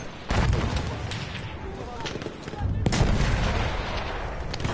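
Selbstlader M1916 rifle and other battlefield gunfire in Battlefield 1, sharp cracks and heavy booms over a rumbling backdrop, several loud shots spread across the clip.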